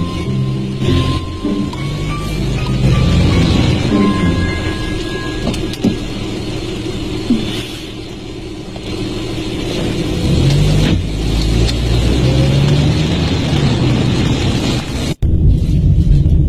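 A car drives in traffic, its engine a steady close rumble with interior hum, brief swells and a sharp thump near the end.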